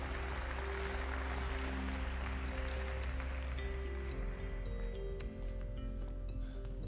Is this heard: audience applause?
yes